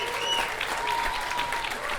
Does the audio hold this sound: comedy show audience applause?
yes